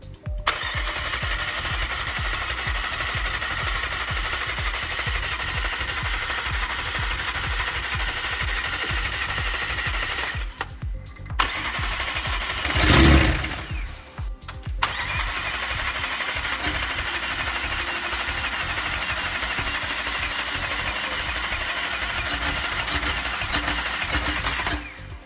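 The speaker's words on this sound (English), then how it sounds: "flash the bass file on now and fire the car up" A freshly built 1,600HP McLaren engine fires up in a Dubai workshop, cranking briefly before catching, then settling into a loud, steady, rough idle that runs on continuously close by.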